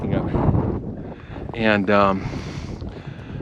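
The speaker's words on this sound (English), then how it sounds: "Snow is thinning out, and walking is getting a bit easier, but the wind is picking up," Wind gusting on a snowy mountain hiking trail during a snowstorm, a steady broad rush of blustery noise buffeting the microphone, with someone talking over it throughout.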